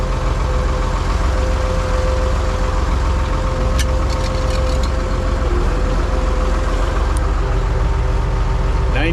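A 1970s Oliver 1755 diesel tractor engine idles steadily nearby, a constant low rumble with a faint steady whine, running alone without talk.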